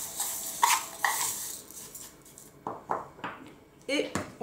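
Spoon clinking and scraping in a bowl while raisins, oats and flaxseed are stirred together, a few short bursts of clatter between pauses, with a voice speaking over it.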